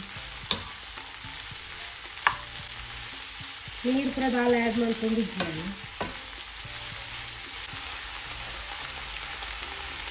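Cabbage stir-fried medium in a pan with a tempering, giving a steady soft sizzle with a few sharp spatula scrapes and knocks. A voice talks briefly in the middle.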